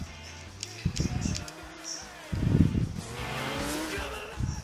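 A police car chases the player's vehicle in the GTA video game near a big building, with engine roar, surging acceleration and tire squeals rising and falling in loud bursts over a busy background.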